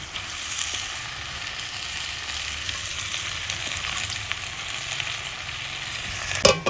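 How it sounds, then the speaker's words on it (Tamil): Onion frying in a little oil in a village-style kitchen, a steady, close hiss and crackle running without pause, with a brief clatter near the end. "கொஞ்சோண்டு எண்ணெயை ஊற்றி ஒரு வெங்காயத்தை அடக்கி போட்டுருக்கேன்"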